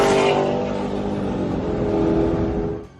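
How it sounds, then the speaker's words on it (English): Dodge Hellcat and Nissan 240 in an illegal street race at an underground car meet, a loud close engine roar holding steady for a few seconds with a tonal whine before cutting off. "a street race was kicking off between a Hellcat and a Nissan 240"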